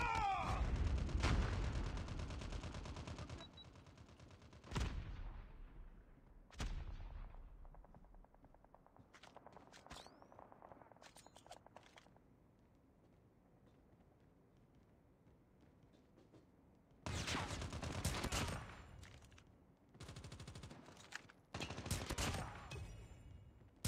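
Gunfire in a shooter video game: sharp bursts of shots at the start, scattered single cracks through a quieter stretch, then loud rapid volleys toward the end.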